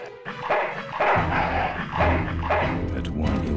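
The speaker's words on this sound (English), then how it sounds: "That's one ill-tempered mongrel." An angry dog in the video game Full Throttle Remastered barks in several loud, close, snarling bursts over a few seconds, with growls between them.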